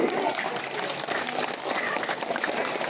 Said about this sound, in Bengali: তাদের জন্য একটা করে করে জোরে হাততালি